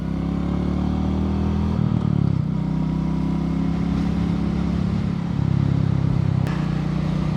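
A motorcycle cruises along a country road near Corwin, Ohio, its engine holding a steady, close droning hum with a slight shift in pitch partway through and no talking.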